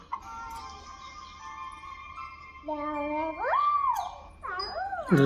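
A cat gives a couple of drawn-out, wavering meows, rising and falling in pitch, after a stretch of quiet with a faint steady tone.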